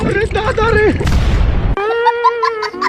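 A cartoon firecracker bursts with a loud, abrupt bang, followed by a brief noisy crackle, between cartoon voices heard before and after it.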